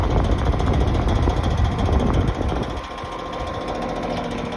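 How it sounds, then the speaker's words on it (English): A faulty HVAC unit motor runs with a loud, rough mechanical drone and whir, steady at first and then easing down in level about halfway through, with no voices. "Yeah, that noise is from my motor."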